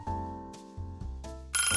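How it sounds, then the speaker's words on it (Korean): A home telephone in a living room rings with loud, bright electronic tones in short repeated bursts, heard alone and close by. "전화벨이 울렸습니다."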